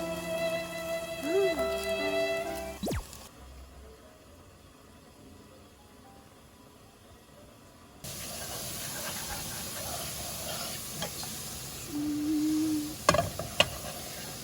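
Garlic sizzles in oil in a pan for aglio e olio, a soft steady frying hiss with occasional stirring clinks and scrapes, interrupted by a stretch of near quiet before the sizzle returns louder.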